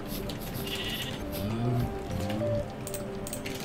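Sheep in the video game Minecraft give a couple of bleats over a steady background of game sounds and low murmur, fairly close and clear.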